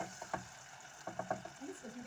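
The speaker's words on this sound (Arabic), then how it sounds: "ونخلي البصل يتقلى مليح" Small-cut onion with salt fries in a little oil, a soft sizzle broken by a few light scrapes and taps of a utensil against the pan across two seconds.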